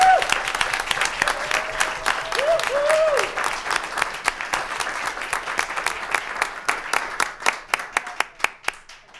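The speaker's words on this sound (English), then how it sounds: "One final round of applause" A board meeting audience gives a loud, dense round of applause that thins into scattered separate claps toward the end, with a few voices and whistles mixed in.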